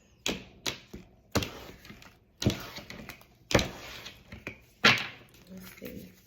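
Tarot cards being shuffled by hand, a string of sharp riffling and tapping bursts roughly every second, close and fairly loud, with quiet gaps between them and no talk.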